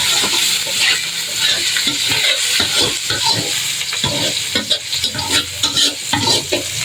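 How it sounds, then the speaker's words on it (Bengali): Onions fry in oil in a pan for noodles, stirred and scraped at an uneven rhythm over a constant close sizzle. "তো আমাদের পেঁয়াজগুলো একটু ভাজা ভাজা হয়ে গেছে।"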